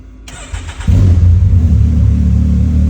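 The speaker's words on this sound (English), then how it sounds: "when I ignition the car up here, start it here" A 2021 Can-Am X3 XRS Turbo RR engine cranks briefly from the start button, then catches and settles into a loud, deep, steady idle rumble, close by with no talking.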